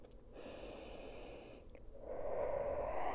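Close, soft breaths during a home Pilates workout: a long airy inhale followed by a fuller exhale, quiet and alone with no talk over them.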